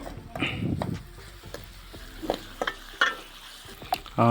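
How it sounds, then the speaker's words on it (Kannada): Mandakki (puffed rice) seasoning frying in oil in a pan, with intermittent stirring scrapes and clacks over a faint steady sizzle, one louder burst of sizzling early on, then sparse clatters. "ಎಣ್ಣೆಲಿ ಒಂದು ಸ್ವಲ್ಪ ಫ್ರೈ ಆಗಿದೆ ಇನ್ನೊಂದು ಸ್ವಲ್ಪ ಫ್ರೈ ಆಗಬೇಕು"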